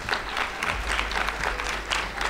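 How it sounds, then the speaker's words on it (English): Applause from the delegates at a Model United Nations session as a resolution passes, a steady dense patter of many hands clapping at moderate loudness, with no talk over it. "You may now applaud."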